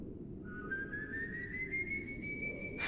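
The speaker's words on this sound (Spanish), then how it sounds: "Pero entonces vino otro silbido." A single long whistle slowly rises in pitch, clear and steady, against a quiet low background hum.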